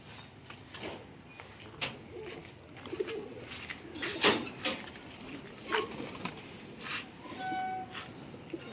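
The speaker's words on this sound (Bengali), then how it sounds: "এ হচ্ছে একটা নর কবুতর" A male army-breed pigeon cooing in a loft, several soft throaty coos spaced irregularly, close by, with light rustles and clinks between them.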